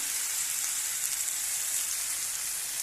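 Tiger prawn curry masala sizzles in hot oil after browning down in the pan, giving a steady, close hiss of bubbling and spitting oil with no talking over it.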